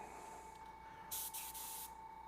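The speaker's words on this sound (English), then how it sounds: "we'd flush out the paint, maybe give it a quick spray" A paint sprayer being flushed out after use gives a quick spray, two short loud hissing bursts over a steady hum.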